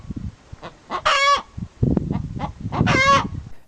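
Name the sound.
hen clucking to announce she has laid an egg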